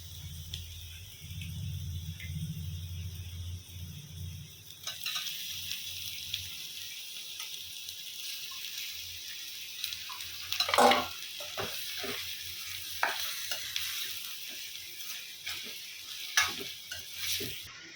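Chicken pieces tossed into hot oil with turmeric and coriander powder, a quiet start giving way to a steady sizzle with stirring scrapes and clinks from the pan.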